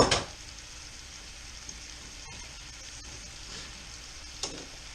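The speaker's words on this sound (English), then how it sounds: "I'm sure y'all can hear the meat starting to sizzle." Meat for goulash sizzling in a pot, a continuous soft frying hiss with faint stirring clicks and a sharp clatter at the start, close and fairly quiet, no talk.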